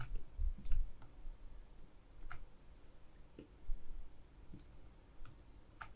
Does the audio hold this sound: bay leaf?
no